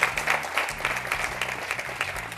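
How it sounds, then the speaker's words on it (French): An audience applauds Edith Kouassi, a young art enthusiast, with moderately loud, even clapping that carries on for the whole stretch, with a low hum running beneath it. "que je vous demande d'applaudir encore une fois"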